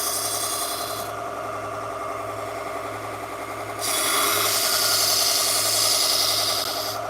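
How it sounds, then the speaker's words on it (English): A 1x30 belt grinder grinds a scissor blade down to remove micro serrations, giving a steady raspy whir with a low motor hum that grows louder and brighter midway as the blade is pressed harder against the belt. "I got grind down all the way to take those micro serrations out of there"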